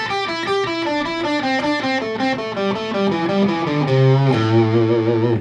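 A distorted electric guitar plays a quick pentatonic phrase alone, notes tumbling downward in a steady run before settling on a sustained low note.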